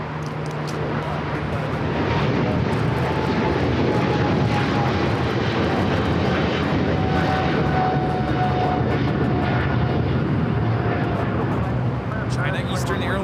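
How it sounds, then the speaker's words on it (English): A China Eastern Airlines Boeing 777-300ER takes off from runway 25 right at LAX, its engines a loud, sustained roar building slightly and holding steady, with a faint whine riding above and voices talking over it. "China Eastern Airlines 586 taking off to Shanghai on the 777-300ER."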